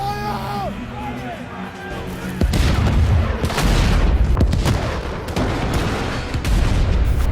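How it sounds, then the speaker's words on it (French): A barrage of cannon fire booms in dense, overlapping blasts that go on without a break, loud and close, after a short passage of tonal music and voices. "imagine-toi 10 canons comme ça qui te canardent"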